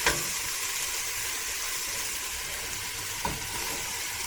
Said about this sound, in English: we're going to be lightly frying this up